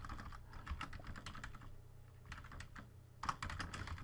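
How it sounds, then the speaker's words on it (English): Typing on a computer keyboard, a steady run of quick close keystrokes with short pauses and bursts, clicking alone over a low background hum. "let's go ahead and type in risk management"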